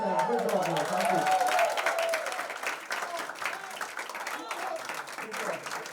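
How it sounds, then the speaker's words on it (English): College students clap for themselves in a steady, dense burst of applause, with cheering voices mixed in throughout. "Please clap for yourself."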